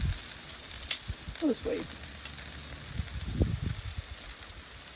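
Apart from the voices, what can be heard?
bacon sizzling on a Blackstone griddle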